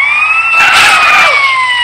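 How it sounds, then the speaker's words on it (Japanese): Police car siren in the game GTA San Andreas, a loud wailing tone sweeping up and down, heard alone with engine noise over a short stretch. "パトカー来るけど、お構いなしで"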